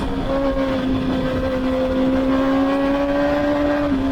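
Race motorcycle accelerating hard out of a corner on a track, a steady loud engine drone with a high whining tone held throughout, close and continuous without speech.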